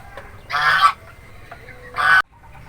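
A goose gives two loud, separate honks about a second apart, each harsh and nasal, with quiet background between them.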